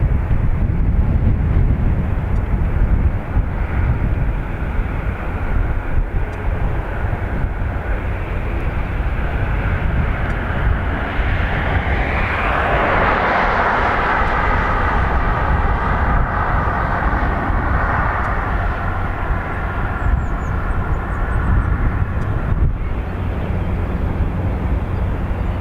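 A fixed-wing airliner departs from Runway 2 Right at Dublin Airport, its engines a steady, loud roar with heavy wind buffeting throughout, swelling around mid-clip as it accelerates and climbs past.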